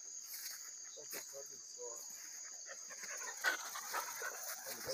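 Hunting dogs in the woods during an armadillo hunt, heard as faint, scattered barks and whimpers under a steady wall of insect and cricket noise, with someone talking briefly over them.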